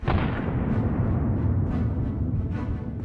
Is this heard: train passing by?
no